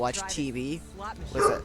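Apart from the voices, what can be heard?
dog barking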